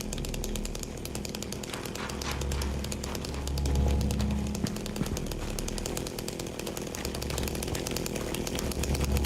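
A chainsaw drones in the Silent Hill 2 Remake, a constant, buzzing engine rattle that idles and swells slightly midway, heard at moderate distance with faint ambient noise and no speech.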